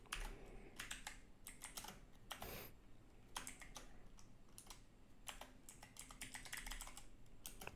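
Steady typing on a computer keyboard while writing PHP code, close and fairly quiet, with quick clusters of key clicks and brief pauses between words.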